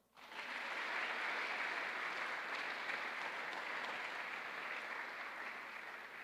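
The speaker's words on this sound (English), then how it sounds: "Give her a round of applause" Steady audience applause at an honors convocation, a dense even wash of many hands clapping that starts abruptly and holds at full strength throughout.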